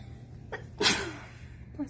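A single sharp sneeze bursts out near the middle, close and clear, with a faint intake of breath just before and a short vocal sound after.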